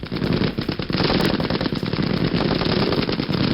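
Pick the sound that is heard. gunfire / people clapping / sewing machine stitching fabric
gunfire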